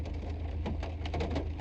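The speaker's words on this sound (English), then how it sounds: "It's like raining really bad and I'm really cold." Heavy rain drums steadily on a car roof, heard from inside the parked car, with a low engine or fan hum underneath and no talking.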